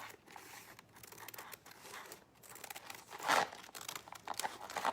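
Scissors or a blade cut through material for hutch door wall decor, giving soft crinkling, snipping and rustling close by at low volume, with a louder crunchy cut partway through.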